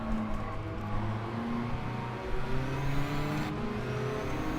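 A race car engine in a racing video game holds a steady droning hum with shifting tonal pitch, revs kept low and sustained throughout, close and continuous with no voices.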